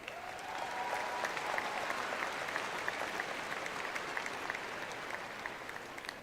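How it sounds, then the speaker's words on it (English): Graduation ceremony crowd applauding in a large venue, a continuous, fairly distant roar of many clapping hands with faint cheers, steady from start to finish. "We applaud this achievement."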